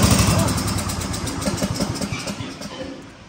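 A mower engine, fitted with new fuel lines and run on choke, cranks and sputters loudly and close, then fades over a few seconds with uneven firing pulses, under a speaking voice.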